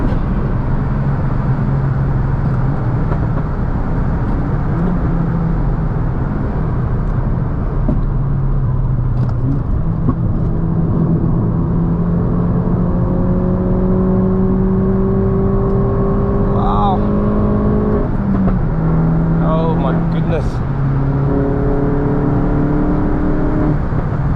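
Mk2 wagon driving fast on Contermanskloof Road, its engine in poor condition, gives a constant loud cabin drone of engine and road noise with rising and falling revs as gears change, and a voice speaks briefly.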